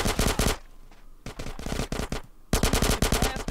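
Automatic gunfire in the video game GTA San Andreas, loud rapid bursts of shots with a short lull before the firing resumes, no talking.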